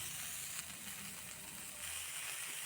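Vegetarian curry with ground black pepper being sautéed in a pan, a soft continuous sizzle with faint stirring scrapes, brief and fairly quiet, with no talk.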